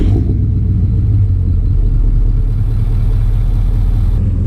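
A Ford 6.0 Powerstroke diesel engine in a pickup truck rumbles loudly and steadily at close range, a deep continuous idle with no break and no voices.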